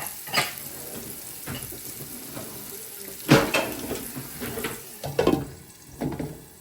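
Carrots cooking in a covered pan for a vegan bolognese give a soft, steady sizzle, broken by several sharp clinks and clatters of the pan and lid.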